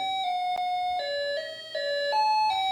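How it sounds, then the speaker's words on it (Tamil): An electronic calling bell plays a music-box style chime, a short melody of clear, bright, sustained tones stepping through several pitches, heard close and alone. "இது காலிங் பெல்லா இல்லைனா வந்து மியூசிக் பாக்ஸா தெரில"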